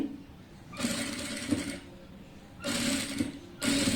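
Sewing machine running bursts while double-stitching the waistband of churidar pants, two sustained whirring runs separated by a pause, then a third starting at the end, close and fairly loud.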